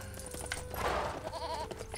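A goat bleating in a LEGO Lord of the Rings video game, one brief wavering bleat over busy game music and background effects.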